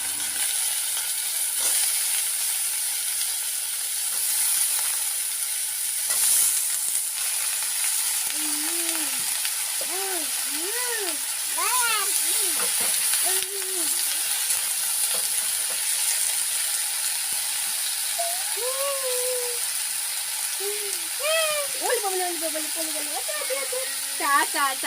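Spices and cut vegetables frying in a pan for a light village-style Bengali fish curry, a steady hiss and sizzle throughout, with birds chirping in the background and a voice talking over it.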